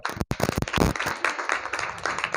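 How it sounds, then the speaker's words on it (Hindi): An audience applauds at a direct selling event, a short burst of clapping that starts abruptly and carries on with mixed chatter and voices over it. "जोरदार ताली सर के लिए"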